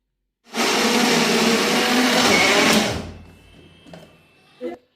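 A kitchen mixer grinder whirs loud and steady for about two and a half seconds as it grinds peanuts and coconut, then winds down, followed by a few faint clinks of the jar.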